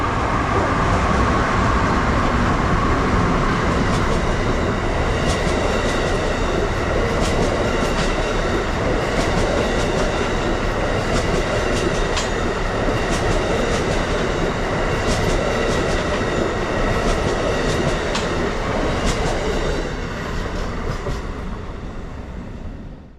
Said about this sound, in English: Amtrak Regional Train 136 streaks through the darkness with another set of double-headed ACS 64s